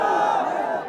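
A large crowd at a religious-political rally chants slogans in unison, a loud, sustained roar of many voices that swells and then tapers off at the end.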